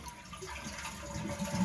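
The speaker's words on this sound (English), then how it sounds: "as you can see, when you flush it," A household toilet flushes with a steady rush of swirling water, moderately quiet and close, building slightly toward the end.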